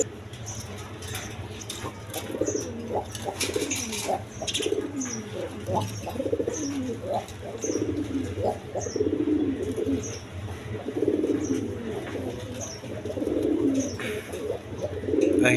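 Red high-flying Giribaz pigeons cooing close by, a run of repeated soft throaty coos rising and falling over a low steady background hum.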